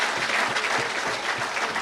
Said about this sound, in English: I'd like you to give the Honorable Prime Minister a round of applause.